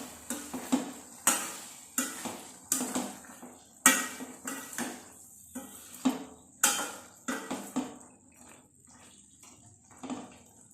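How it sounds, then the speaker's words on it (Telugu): A spoon stirs fried cashews into paneer butter masala curry in a pan, producing a series of close metallic clinks and scrapes at an irregular rhythm with quiet pauses, and no voices. "యాడ్ చేసుకున్న తర్వాత మళ్ళీ నిదానంగా కలుపుకుందాం"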